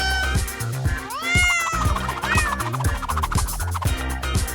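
A cat meows over a loud, bouncy backing music track, with a few drawn-out, wavering mews standing out clearly near the middle, no talk.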